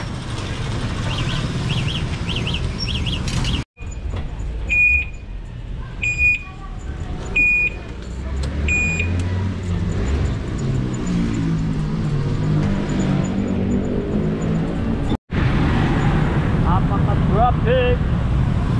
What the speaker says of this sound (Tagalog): Grabing traffic dito.